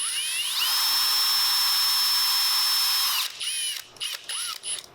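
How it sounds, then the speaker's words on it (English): A power drill bores a hole in a wooden rifle stock for a Southern Mountain Rifle kit, a close, high motor whine running steadily for about three seconds, then several short on-off bursts as the trigger is blipped. "just take your drill bit, stick it through the hole, a little shorter here, and drill it"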